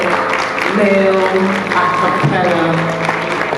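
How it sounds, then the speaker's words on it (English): Steady audience applause in a summit hall for a male a cappella group, dense and continuous throughout, with a voice speaking over it. "can we have a round of applause for the wonderful"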